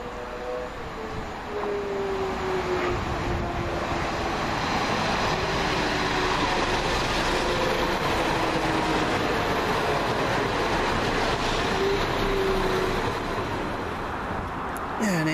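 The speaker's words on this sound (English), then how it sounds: "Next train in will be the 11:26 London Midland service from Stratford-upon-Avon to Stourbridge Junction via Whitlock's End" A London Midland Class 172 diesel train pulls into Stratford-upon-Avon Parkway with a sustained engine rumble, rolling wheel noise and a faint rising squeal that fades, loud and fairly close, with no talk.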